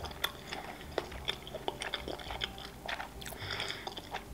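Tuna sushi rolls are chewed up close in a quiet mukbang, with soft wet chewing and repeated crisp bites and smacks in an uneven rhythm and no talking.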